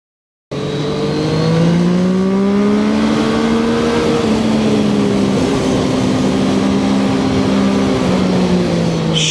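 Zontes 703RR three-cylinder sport motorcycle accelerating from the rider's position: a loud, sustained engine drone that rises quickly after a brief silence and holds through gear pulls, with rushing wind noise and no voice.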